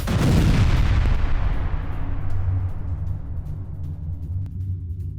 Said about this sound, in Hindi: रिफाइनरी में भीषण धमाके से सनसनी